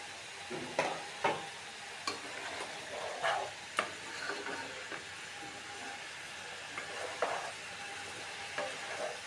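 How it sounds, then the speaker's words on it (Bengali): Haleem spices frying in a pot give a soft, quiet sizzle, punctuated by a series of brief scraping clicks from stirring, spaced about a second apart and fading in the second half. "আমরা নেড়ে চেড়ে মশলাটাকে ভালো করে কষিয়ে নিতে হবে"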